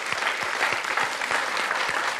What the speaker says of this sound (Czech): zaslouží si potlesk